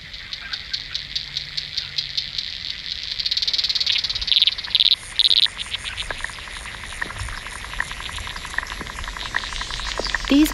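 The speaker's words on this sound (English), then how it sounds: "Aquatic invertebrates produce an array of sounds by rubbing body parts together, a process called stridulation." Aquatic insects in a freshwater pond stridulate in rapid, repetitive ticking trains, layered into a dense buzzing chorus with brief louder pulses in the middle.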